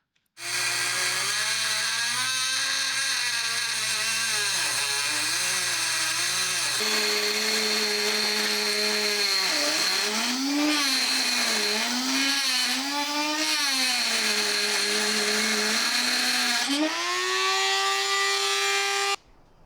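A power tool grinds and shaves the corner of an oil cooler mount for the bumper on an E46 M3, running loud and steady for almost twenty seconds with the pitch rising and falling as the load changes.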